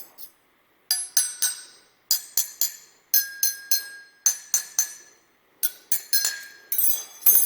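Luminarc glass storage jars clink together in quick bursts of three or four bright, ringing taps, repeated in a steady rhythm with short pauses between.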